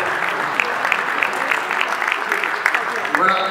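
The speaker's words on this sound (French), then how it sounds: "On peut les applaudir." An audience applauds a youth under-9 football team at an awards moment, dense steady clapping from a crowd filling the whole stretch, with voices mixed in.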